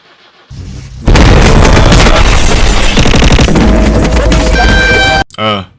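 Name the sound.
car engine cranking and starting in video game My Summer Car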